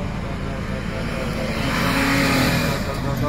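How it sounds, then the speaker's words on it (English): An overlanding rig's engine revs hard during a sand recovery on California's Lost Coast, a loud mid-range roar climbing in pitch and swelling toward the end, close by with a rough, strained tone. "No, I think I over-revved."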